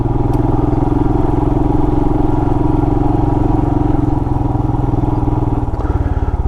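A Royal Enfield Himalayan motorcycle's single-cylinder engine chugs steadily and loudly up close on an off-road trail in a national forest, a rapid, even thumping pulse with a slight change near the end.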